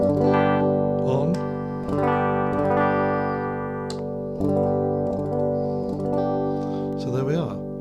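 Electric guitar with a quick-change pickup switched on, playing a run of sustained chords and notes with effects, each strum ringing loud and steady in a near, full tone.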